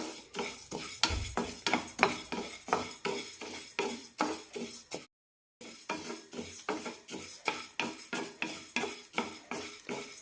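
Green gram dal being dry-roasted and stirred in a pan for rice laddu, with a steady run of close metallic scrapes and clinks from the spoon against the pan.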